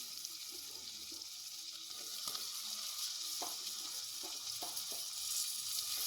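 Sliced onions fry in a pan for soybean roast, giving a steady soft sizzle with a few faint clinks of stirring, quiet and close.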